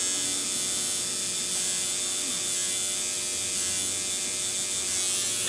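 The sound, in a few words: tattoo machine buzzing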